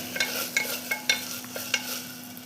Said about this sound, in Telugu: వన్ స్పూన్ అల్లం వెల్లుల్లి పేస్ట్ అండి వేసి కొంచెం ఒక ఫైవ్ వన్ మినిట్ అలా రోస్ట్ చేయాలండి